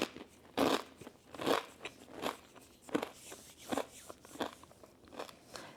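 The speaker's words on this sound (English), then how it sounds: "And the crackers have a really nice flavor. They're very crunchy." Crunchy crackers being bitten and chewed close up, eaten alongside spicy tuna and baby carrots, giving a series of sharp, loud crunches at an irregular rhythm with quieter chewing between them.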